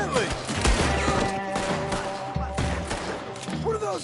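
Gunfire from a Red Dead Redemption 2 shootout, a dense scatter of shots crackling over a busy in-game soundscape, with voices and other game sounds underneath, steady and fairly loud throughout.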